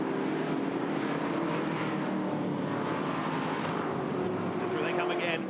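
Ute race cars with V8 engines roar past together at Pukekohe, a loud, broad, continuous engine wash that fills the whole stretch without a clear break between cars.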